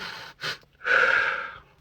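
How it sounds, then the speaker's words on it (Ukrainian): Quick breaths during a calming breathing exercise: two short sharp inhales, then a longer rushing breath through the nose, close and clear with no talking. "оці вдохи швидкі."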